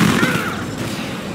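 Rapid burst of unit gunfire in the real-time strategy game Command & Conquer 3: Tiberium Wars, a loud, close fusillade of crackling shots lasting about a second, heard alone.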